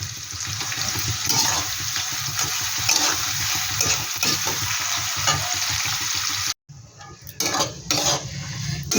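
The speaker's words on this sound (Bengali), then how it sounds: "একটু লবণ দিয়ে দিলাম, তাহলে পেঁয়াজটা তাড়াতাড়ি ভাজা হয়ে যাবে" Onions fry with salt in a pan for a coconut chicken dish: a loud, steady sizzle with scraping stirs and clinks of a utensil against the pan, broken by one brief pause before the frying resumes.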